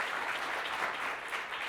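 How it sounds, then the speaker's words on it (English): Audience applause at a charity's annual meeting, a dense, even roar of many hands clapping that holds steady throughout with no talking over it. "Please give yourselves a round of applause for your incredible support."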